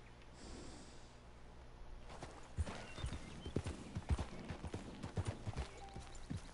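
Horse hooves clop at a steady walking pace on hard ground in Red Dead Redemption 2, fairly quiet, with a snort and breathing near the start.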